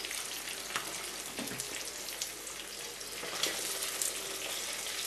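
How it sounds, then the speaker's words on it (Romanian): Zander and bream frying in a fisherman's pan, a steady dense sizzle and crackle of hot oil with small pops, close and continuous throughout. "Când peștele s-a prăjit, nu-l prăjiți prea mult, v-am spus."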